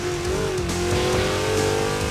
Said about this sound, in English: And listen to the wheel spin over the top of this hill.